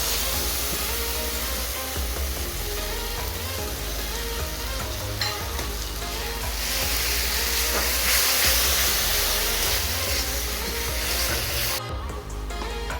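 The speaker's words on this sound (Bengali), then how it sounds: "এরপর দেব আমি সর্ষে রসুন লঙ্কা বাটা।" Mustard, garlic and green chili paste dropped into hot oil, giving a loud, continuous hissing sizzle that stays strong throughout and cuts off abruptly near the end.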